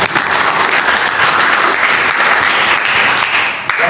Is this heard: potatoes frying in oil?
no